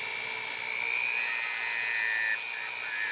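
A pumice polishing wheel spins against a damaged diamond, giving a continuous high-pitched whining grind that holds steady and close without pause.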